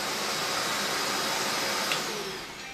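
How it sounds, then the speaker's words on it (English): A shop vac runs at full power with a loud, steady roaring whoosh of airflow, close up and without voices, easing slightly near the end. "Good vacuum cleaner."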